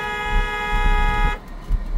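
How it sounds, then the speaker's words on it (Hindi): Car horn honked during a driving lesson while turning right, a steady sustained toot from close by for over a second that cuts off abruptly, leaving low road and engine rumble. "हॉर्न दीजिए"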